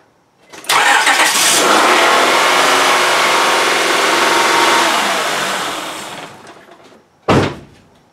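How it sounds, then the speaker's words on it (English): A Honda Odyssey engine cranks and catches after valve cover gasket work, then idles loudly and steadily for several seconds before fading, followed by a single sharp thump near the end. "Let's start the engine."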